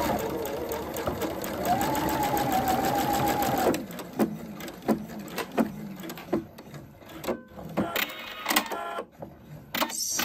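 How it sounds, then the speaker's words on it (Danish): Close sewing machine stitching a circle-cut skirt seam runs steadily for about four seconds, then stops; scattered soft clicks and handling taps follow as the seam is finished. "Stop med nålen nede, især hvis du har en maskine, hvor du har den mulighed for at aktivere nålen nede."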